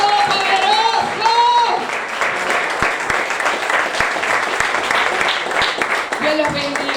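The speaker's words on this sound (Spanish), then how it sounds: "Denle un aplauso grande a aquel que vive." A church congregation claps loudly during a Spanish-language service while a voice carries over the hands. The applause rolls on as a steady, crowded patter.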